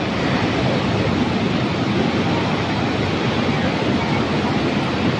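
Water from the Nizam Sagar dam rushes out through its opened gates into the Manjira river, making a loud, continuous roar of broadband rushing water with no pauses.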